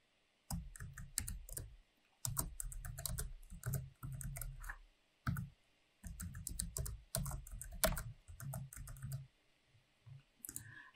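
Fingers type a password on a computer keyboard in bursts of quick, close, crisp key clicks separated by brief pauses, with no talking.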